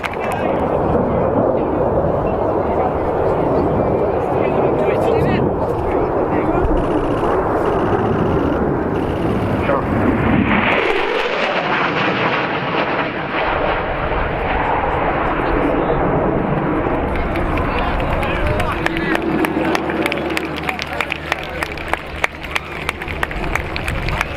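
An aerobatic Extra aircraft performs at RAF Cosford Airshow 2025, its engine roaring loudly and continuously with a pitch shift midway as it passes, over crowd noise and a commentator's voice.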